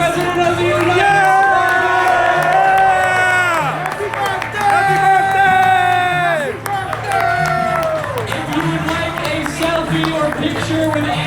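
A large crowd at a university town hall for a presidential candidate claps and cheers loudly and continuously, with whoops and shouts layered over strong sustained music.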